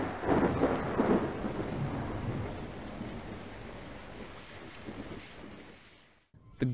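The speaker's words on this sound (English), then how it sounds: "The sound of a thunderous rainy day." A thunderstorm with steady rain rumbles and hisses in a broad, continuous wash, heaviest at the start and slowly easing before cutting off.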